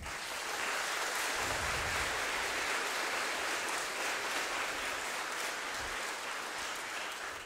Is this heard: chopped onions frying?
no